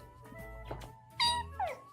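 A cat meows twice in close succession at moderate loudness, short rising-falling cries near the end over a quiet room with low background hum, during a playful encounter with a parrot.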